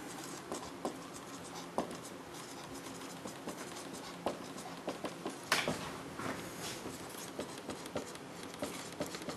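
Someone writes mathematics notes on limits by hand, producing a steady run of close, scratchy strokes and small taps that continue throughout without pause.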